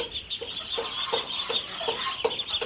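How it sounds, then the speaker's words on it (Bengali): Farm chickens that have wandered right up to the front of a house cluck in a quick, uneven series of short calls, moderately close and with no talking over them. "ফার্ম মুরগিগুলো একদম ঘরের সামনে চলে আসছে"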